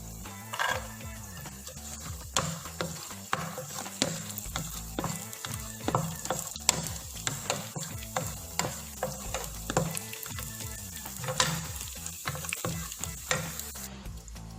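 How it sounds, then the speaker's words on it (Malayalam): Cashews and raisins fry in hot oil in a pan, giving a steady close sizzle with repeated scraping stirs and clinks of the spoon and no voices throughout. "ഇനി നമുക്ക് ആദ്യം കാഷ്നട്ട് റൈസൻസ് ഒന്ന് ഫ്രൈ ചെയ്തിട്ടെടുക്കാം"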